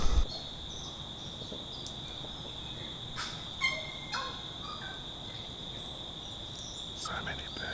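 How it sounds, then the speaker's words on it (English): Several birds call in the open New Zealand countryside, with a sustained high whistling tone and scattered chirps and gobbling notes over a low, quiet background. "So many birds."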